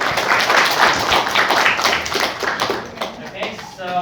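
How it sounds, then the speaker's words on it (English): A lecture audience applauds the speakers on the platform at an academic talk, a dense burst of clapping that gradually thins and fades toward the end. "Give applause to the platform."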